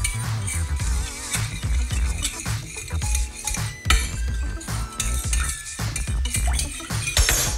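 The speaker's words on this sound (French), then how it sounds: "Ensuite, je vais remuer, histoire de mélanger." A spoon stirs Cajun spice marinade made with fermented milk in a bowl, giving steady, close clinks and scrapes against the bowl for several seconds with no talking.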